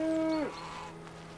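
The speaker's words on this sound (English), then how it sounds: "That cow seems to be a little fast." A cow in the video game Force of Nature 2 lets out one short, clear moo that drops off quickly, followed by quiet game ambience.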